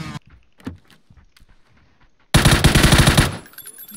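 A rapid automatic burst of gunfire in the video game PUBG lasts about a second, loud and close, following a quiet stretch of scattered faint clicks and taps.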